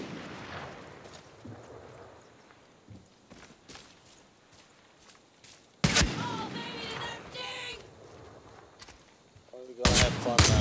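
Video game gunfire from Far Cry New Dawn, set in Hope County, comes in loud bursts that start with scattered quieter shots and footsteps, then two heavy volleys near the middle and the end.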